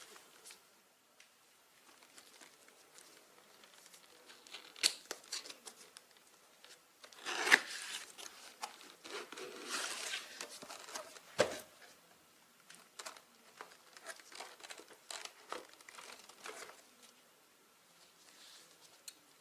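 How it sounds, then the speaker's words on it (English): The packaging of a LAUNCH 129E OBD scanner is opened with soft, intermittent rustling, rubbing and scraping of cardboard and wrapping, close and quiet, with a louder tearing flurry partway through and no talking. "So let's unbox it."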